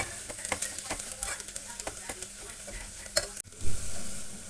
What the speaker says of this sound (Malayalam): ഒരു 2 മിനിറ്റോളം പൊടിയുടെ എല്ലാം പച്ചമണം മാറുന്നത് വരെ മിക്സ് ചെയ്ത് കൊടുക്കുക.